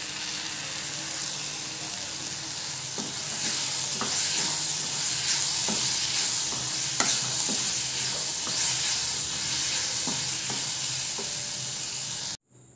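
Onion, tomato and carrot sauté for wheat adai, a steady sizzle in the pan with repeated spatula scrapes and stirring taps, close and continuous until it abruptly stops.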